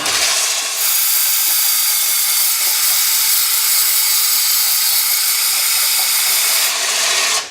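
A power sanding disc works steadily across the wood of a carved model boat deck, a loud, even, hissing whir that starts and stops abruptly, with no talk.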